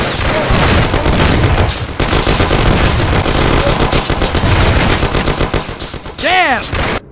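Heavy gunfire from several guns in a shootout, sustained rapid automatic bursts, loud and close, filling the whole stretch, with a ricochet-like whine near the end.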